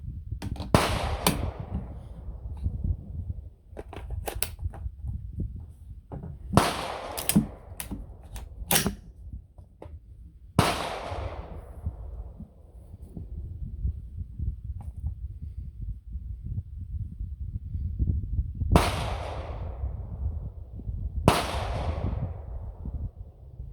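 Rifle shots from a 6.5 Creedmoor firing 95gr V-Max handloads, a string of sharp, loud cracks spaced irregularly with pauses between groups, each trailing into a short outdoor decay over low background rumble.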